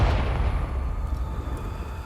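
A Confringo blasting spell explodes in the video game Hogwarts Legacy, leaving a loud, deep booming rumble that slowly dies away, with no voices.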